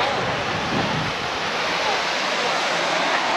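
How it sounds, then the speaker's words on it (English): Falling water at a waterfall in Araku Valley pours into a small pool below, a loud, steady broadband rush with some wind buffeting. "So that's the waterfall and the small pool that is formed down there."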